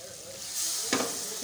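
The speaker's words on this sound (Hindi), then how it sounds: "थोड़ा सा पानी डाल के हम लोग इसको भून रहे हैं" Vegetables sautéing in a pan with a little added water for a green bean, potato and pea sabzi, a steady close sizzle that swells partway through with a brief sharp hiss burst.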